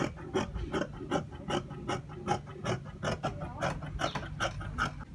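Fabric being cut out for a vintage camp collar shirt, with a steady run of rhythmic rasping snips and scrapes repeating about twice a second, close and moderately loud with no talk.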